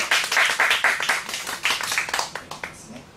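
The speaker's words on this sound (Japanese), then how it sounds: "拍手" A small audience at a live reading and music performance claps briefly, a close burst of individual hand claps that thins out into scattered final claps, with a voice faintly present.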